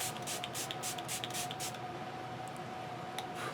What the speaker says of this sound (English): let me go ahead and do a couple of sprays here